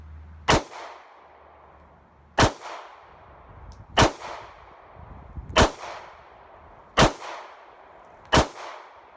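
A Smith and Wesson BodyGuard BG380 pistol fires copper-plated round-nose rounds at a range: six sharp, loud reports spaced about one and a half seconds apart, each ringing off briefly.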